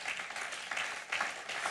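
Church congregation applauding during a sermon, a steady wash of many hands clapping with slight swells, moderately quiet and heard alone.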